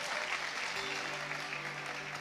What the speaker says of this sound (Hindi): भाई ताली बजाओ यार